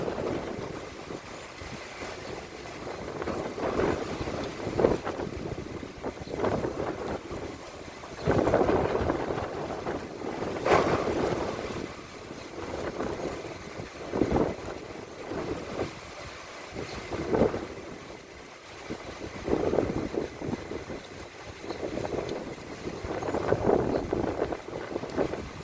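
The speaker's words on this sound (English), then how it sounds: "Oh, rain coming down now heavy," Heavy rain and strong wind on a stormy morning give a steady wash of noise, with gusts that swell and fade and buffet the microphone, and no voices are heard.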